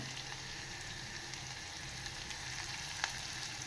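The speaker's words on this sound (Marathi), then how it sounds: "छान असं परतवून घ्यायचं. यातच टाकणार आहे मी कढीपत्ता" Curry leaves sizzle steadily in hot oil as they are sautéed in a pan for surnachi bhaji, a continuous close frying hiss with a few sharper pops near the end, with no talking.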